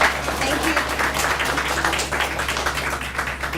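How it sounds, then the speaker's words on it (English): Conference audience applauding a speaker named Tanya at an online-learning event, a dense continuous patter of many hands at moderate level with a low steady hum beneath. "everybody give a round of applause for Tanya"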